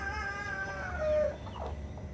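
A mother hen clucks softly on a farm while her chicks are close by, a steady low murmur with a slightly louder call in the middle.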